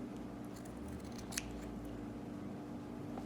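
Scissors snip once through the fabric seam of a sewn dragon or unicorn hood, a quiet close crisp cut over a low steady background hum.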